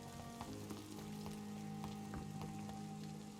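Rain patters continuously outside a London hospital in the video game Vampyr, soft and fairly quiet, with occasional sharper drops standing out from the even wash.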